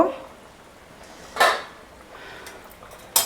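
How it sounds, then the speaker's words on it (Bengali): A pot lid lifted off stuffed aloo dum with a short metallic clink, then another brief clatter of the lid near the end, quiet kitchen background between. "এবার ঢাকনাটা খুলে দেখব"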